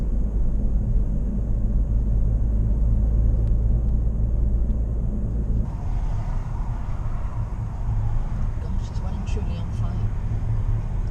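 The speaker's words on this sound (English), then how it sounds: "Typical traffic down past Weston-super-Mare." Steady road-traffic rumble fills the cabin of a car driving near Weston-super-Mare, a continuous low drone with tyre and engine noise that shifts slightly midway, with no clear passing vehicles standing out.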